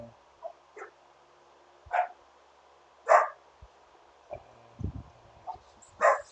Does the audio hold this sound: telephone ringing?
no